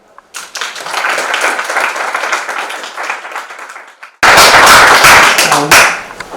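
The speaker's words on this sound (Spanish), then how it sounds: "Un aplauso." Applause from an audience at a university literature and culture talk: a first wave of clapping that builds and fades, then a sudden louder, sharper burst of close clapping that tapers off at the end.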